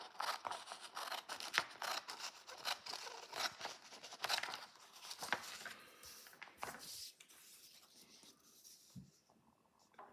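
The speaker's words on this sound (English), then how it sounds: "So I've turned the paper around, and when I cut it out, I'm cutting away from myself and cut along the straight line." Scissors snipping along a straight line through paper, a run of close crisp cuts and crinkles in an irregular rhythm, fairly quiet, trailing off toward the end.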